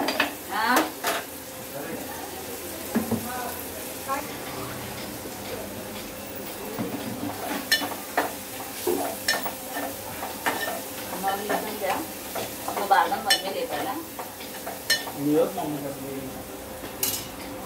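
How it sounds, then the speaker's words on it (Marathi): Onion sautéing in a pan with turmeric, salt and homemade garam masala, a soft sizzle under frequent metallic scrapes and clinks of a spoon against the pan, close and busy, with no clear talk. "थोडा कांदा परतून घेतल्यानंतर त्याच्यामध्ये हळद, मीठ आणि गरम मसाला जो घरी बनवलेला आहे तो मी घालणार आहे"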